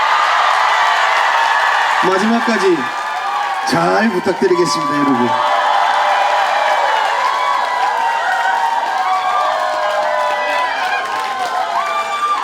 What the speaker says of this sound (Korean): 저는 여러분 박수 소리하고 함성 소리면 됩니다.